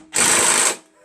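A half-inch impact wrench fires one loud, close, sustained buzzing burst lasting about half a second while loosening a skid shoe bolt on a Craftsman 420 Trac Plus track-drive snow blower, then cuts off.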